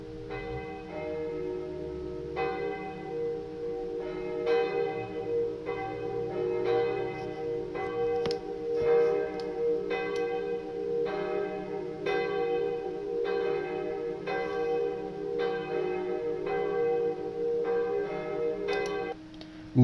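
Reconstructed church bells of Saint-Pierre ring in a steady, evenly spaced sequence of struck tones with long overlapping resonance, continuous for about twenty seconds, no voices.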